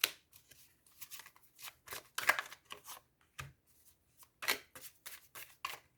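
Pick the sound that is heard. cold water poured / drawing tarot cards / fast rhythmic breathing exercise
drawing tarot cards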